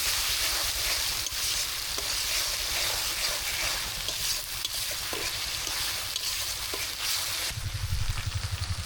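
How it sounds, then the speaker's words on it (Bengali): Whole spices such as bay leaf with ginger-garlic paste, cumin paste and garam masala frying in oil in a pan, a continuous close sizzle with occasional spoon scrapes, louder bubbling at the end, no voices. "মশলাগুলো ভাজা হয়ে গিয়েছে আর আদা রসুনের কাঁচা গন্ধটা চলে গেছে"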